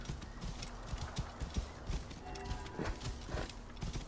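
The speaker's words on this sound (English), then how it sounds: "Oh, look, a donkey." Donkey hooves clip-clopping on the ground in the video game Assassin's Creed Origins, a steady run of close, distinct hoof strikes with faint background ambience.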